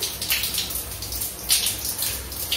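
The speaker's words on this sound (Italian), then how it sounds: "io faccio la doccia." A shower runs steadily in a basic bathroom at the Taftan border crossing between Iran and Pakistan, a continuous close hiss of falling water with slight splashing variations and no talk.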